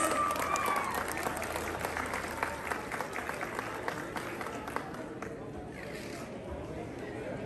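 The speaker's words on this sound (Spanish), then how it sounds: "Regálenme el aplauso, por favor, señoras y señores." A crowd applauding and cheering steadily outdoors for horse riders at a P'urhépecha procession for San Judas Tadeo, a broad wash of clapping that holds throughout and thins slightly toward the end.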